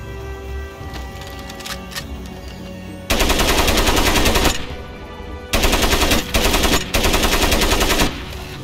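Automatic gunfire in the video game Crysis, long loud sustained bursts of rapid shots with short pauses between them, close and dominant over the game background.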